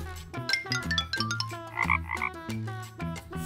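A frog gives a short run of quick croaks midway through, clearly heard over a cheerful children's music bed.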